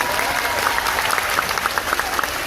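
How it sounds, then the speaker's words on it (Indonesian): Crowd applause at a religious lecture gathering in Taichung, steady dense clapping with individual claps popping out, continuous and moderately loud throughout. "Tepuk tangan untuk beliau."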